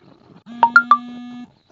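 Phone message notification on a mobile after activating an Ncell data pack: three quick rising beeps over a steady tone, loud and close, with no talk.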